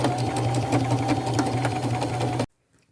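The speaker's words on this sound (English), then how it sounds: "I'm going to go back to my sewing machine, and I am going to put a straight stitch right across here to close that up" A sewing machine runs a straight stitch across a ribbon on a patchwork robe, a fast, even mechanical chatter close by that stops abruptly, leaving silence.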